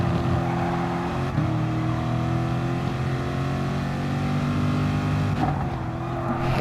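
Race car engine lapping Monza in Gran Turismo Sport, a steady loud drone that climbs in pitch through the gears, with two sharp gear shifts breaking the whine, and no talk.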